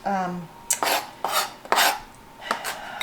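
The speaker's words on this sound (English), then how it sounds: "I'm just going to roughly chop it up" A knife roughly chops baby basil on a board, giving several crisp, close blade strikes in an uneven rhythm, with a brief ringing clink at the start.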